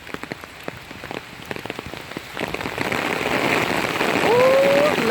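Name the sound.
rain falling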